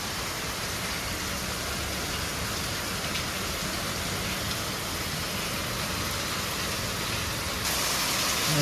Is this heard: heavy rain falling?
yes